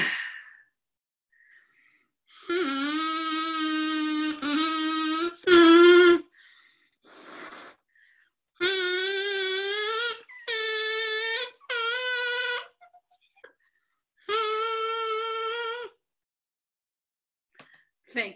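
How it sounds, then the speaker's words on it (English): A plastic drinking straw blown as a whistle gives a series of reedy, buzzing tones in separate bursts with pauses between them, the pitch stepping higher as the straw is cut shorter. "the straw sound got higher and higher"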